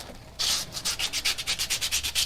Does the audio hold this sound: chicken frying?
no